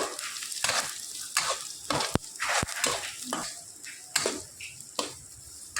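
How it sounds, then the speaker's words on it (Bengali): Ginger, garlic and green chili fry in a pan while a spatula stirs them, giving soft sizzling with sharp scrapes and clicks of utensil against metal at irregular intervals, close up, with no talking. "আদা রসুন আর কাঁচা লঙ্কা আমি খুব সুন্দর করে এখানে নাড়াচাড়া করে নিয়েছি"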